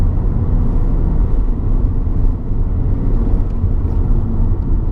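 A SEAT Leon XCELLENCE pulls hard in fourth gear from about 60, its engine a steady, dense low drone heard from inside the cabin, with constant road and tyre rumble and no talking.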